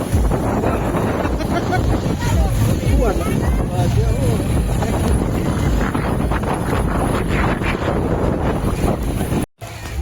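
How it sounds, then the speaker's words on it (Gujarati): Heavy rain and strong gusting wind on the Ambaji pilgrimage road make a dense, continuous roar that buffets the microphone, loud and unbroken for the whole stretch apart from a brief dropout near the end. "બહુ જ ભારે વરસાદ ચાલુ થઈ ગયો છે."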